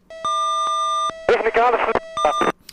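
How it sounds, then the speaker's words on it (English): A steady electronic IR missile lock tone in the DCS flight simulator, during a Greek Mirage versus Turkish F-16 mock dogfight over the Aegean Sea, sounds in long and short beeps and is briefly cut off while someone talks over it. "So that sounds like an IR tone to me, the beep."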